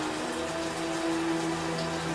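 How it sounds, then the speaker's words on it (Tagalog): Heavy rain pours down steadily in a dense, even hiss that fills the whole stretch, close and fairly loud, with no voices. "Malakas ulan guys, FYI."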